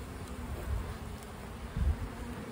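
Honey bees buzz in a small colony's hive during a frame inspection, a soft steady drone with low muffled bumps and handling thuds, no voices.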